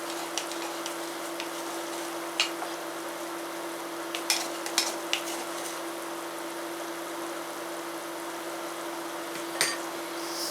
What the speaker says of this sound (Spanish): Y vamos a revolver esto bien.